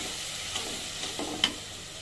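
Garlic paste sizzles in hot oil with spices while being stirred, a steady close fry with a few soft scraping strokes of the spoon.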